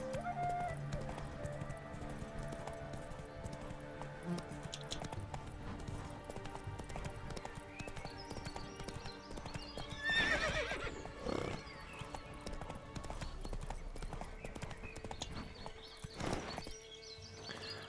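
A horse in The Witcher 3: Wild Hunt clip-clops steadily at close range and neighs, while in-game ambience and faint birdsong play underneath.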